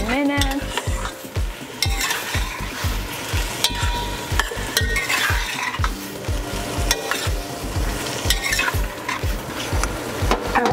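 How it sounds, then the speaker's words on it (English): Pineapple cooking in a pan for a tropical sauce: loud, continuous sizzling with rhythmic scraping and clacking of a utensil stirring against the pan, close up and without voices. "Let's cook the pineapple here for about 15 minutes"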